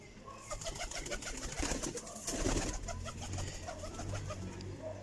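Teddy pigeons coo repeatedly in soft, low, throaty bursts, overlapping one another close by, with faint chirps and rustling in the background.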